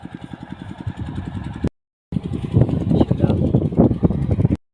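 A river ferry's engine idles with a pulsing, chugging rumble close by as it reaches the bank of the River Ravi, broken by a short gap, then rougher and louder with wind and water noise.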